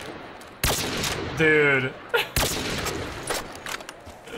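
Sniper rifle fire in a Black Ops 3 zombies game on a custom Rust map: a couple of sharp, loud shots with a mechanical bolt-like rattle between them, under a man's brief exclamation.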